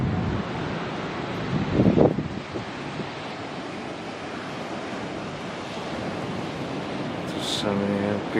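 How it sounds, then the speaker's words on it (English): Ocean surf rolls in at Seminyak Beach, Bali, a steady loud wash of breaking waves with heavy wind rumble against the microphone, swelling briefly around two seconds, with no talking. "wow, the waves are incredible"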